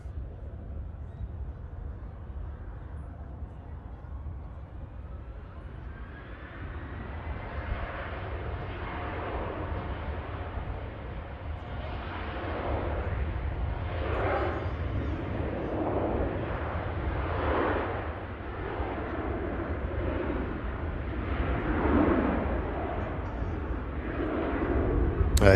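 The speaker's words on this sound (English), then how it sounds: "Finnair heading back to Helsinki," A Finnair airliner departs Manchester Airport for Helsinki on a gusty day, its jet engine roar building steadily from a distant hum to a loud, broad rumble that swells and pulses with the wind.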